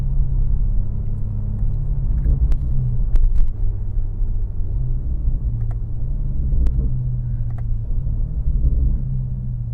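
A BMW F90 M5 Competition with its ZF 8-speed automatic cruises through town in comfort mode, giving a steady low engine and road rumble inside the cabin with a few faint clicks and no talking.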